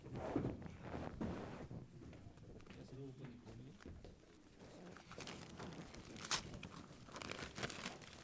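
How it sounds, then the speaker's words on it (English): Paper wrapping crinkles and tears as a book is unwrapped at a formal book release event, with rustling bursts close by and voices murmuring in the room. "You can all stand up and unwrap this together."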